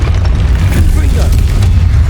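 Confringo fire spell blasts in the video game Hogwarts Legacy, a dense low booming rumble with sharp bursts over continuous game noise and a voice speaking.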